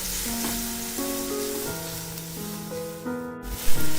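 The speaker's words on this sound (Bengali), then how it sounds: "গ্যাসের ফ্লেমটাকে মিডিয়াম টু হাইতে রেখে সবজিগুলোকে আমি 1 থেকে 2 মিনিটের মতো একটু ভেজে নেব" Vegetables frying in a pan over a medium-high gas flame for a quick Maggi masala with vegetables and egg. A steady, close sizzle runs throughout, with faint sustained musical tones beneath and a brief louder clatter near the end.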